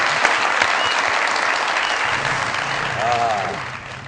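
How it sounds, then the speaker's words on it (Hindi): Studio audience on a Pakistani comedy show applauds loudly and continuously, the clapping swelling near the end while a voice speaks briefly over it. "बहुत सारी तालियां मेरे इन दोनों भाइयों सर प्लीज"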